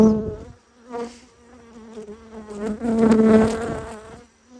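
Honeybees and drones buzzing around an open beehive frame, a close, steady, droning hum that swells and fades as insects fly past, louder in the middle.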